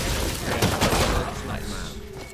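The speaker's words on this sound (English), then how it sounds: "I just heard gunshots." Gunfire in the Valorant video game, a rapid burst of several shots in the first second, then fading into softer background noise, moderately loud.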